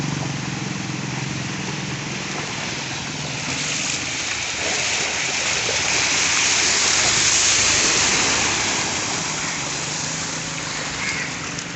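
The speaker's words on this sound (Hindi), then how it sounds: "इधर से इतना पानी आ रहा है" Loud, steady rush of monsoon floodwater pouring down a street in Karachi, a continuous roaring wash that swells slightly midway with no voices.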